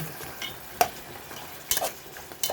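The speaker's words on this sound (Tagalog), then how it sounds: "Ayan, ginisa natin." Vegetables being sautéed in a pan with a soft background sizzle and a few sharper scraping stirs of a utensil, quiet and close, with no talk.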